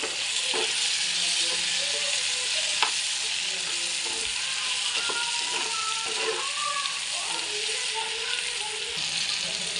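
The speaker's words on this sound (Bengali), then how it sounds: "টমেটোটা দিয়ে দিলাম হালকা করে লবণ দিয়ে দিলাম আর একটু হালকা করে বাদামি কালার মতো ভেজে নেব" Tomato with a little salt frying in a pan, a continuous close sizzle with scattered spatula scrapes and small pops throughout, no talking.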